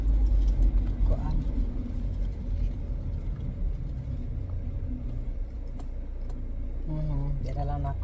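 Car traffic on a road rumbles as a steady low engine drone, with vehicles passing nearby and a louder pass at the start, while a person talks over it.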